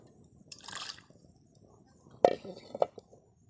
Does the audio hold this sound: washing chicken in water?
yes